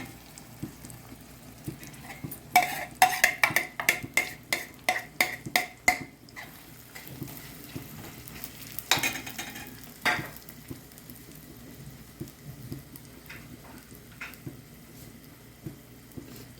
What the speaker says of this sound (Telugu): ఇప్పుడే నేను రొయ్యలు వేసేస్తున్నాను, వేయించుకున్న రొయ్యలు.